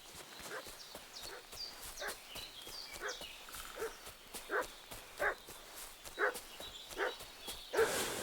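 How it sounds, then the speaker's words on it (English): A dog barks repeatedly in the video game Kingdom Come Deliverance 2, sharp yaps spaced about a second apart, somewhat distant, over soft hoofbeats and footsteps. "What's that dog making such a fuss about?"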